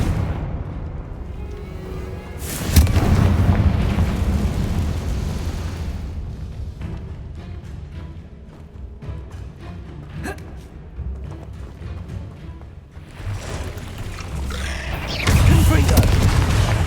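Confringo blasting spells from Hogwarts Legacy go off as heavy booming explosions, with a loud blast near three seconds and another near fifteen, low rumbling debris between them, and voices chanting the incantation amid the combat.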